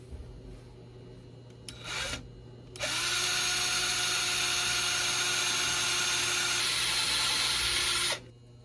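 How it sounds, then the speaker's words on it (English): A power drill bores pilot holes into the back of a guitar body to mount the bridge, running as a steady close whine for about five seconds after a short test burst. "I made my marks for the pilot holes that I need to drill for the back of the bridge to install it."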